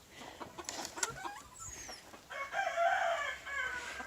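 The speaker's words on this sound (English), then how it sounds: "This is a black laced red Wyandotte." On a farm, a black laced red Wyandotte rooster crows in a strained, rising call amid soft clucks and background chatter of fowl, moderately close.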